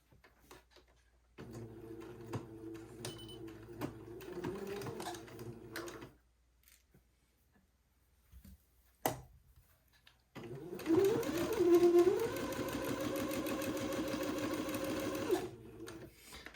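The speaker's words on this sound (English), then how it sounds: "now I can sew this placket onto the back piece" A sewing machine stitches a placket onto the back piece of a child's garment, running in two bursts with a quiet pause between them, the second burst louder and steadier.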